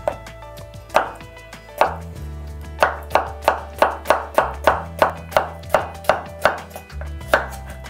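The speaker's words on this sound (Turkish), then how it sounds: "Salatalığımızdan da güzel yarım ay şeklinde birkaç parça keseceğiz" A knife chops cucumber into half-moon slices on a board, giving a steady run of about fifteen crisp close taps at an even rhythm, with nobody talking.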